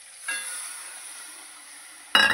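Spiced paste water poured into rohu fish frying in a pan for a mustard-poppy rohu bhapa. A sudden steady hiss and sizzle holds for about two seconds, then ends in a louder, sharper burst of sizzling, with no talk.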